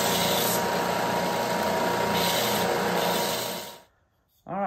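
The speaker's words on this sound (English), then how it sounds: "you come over here, hit it with a sander real quick" A power sander runs over a wooden block for a large Scrabble-style game piece, a steady loud whirring rasp for several seconds that then stops abruptly, followed by a brief faint knock.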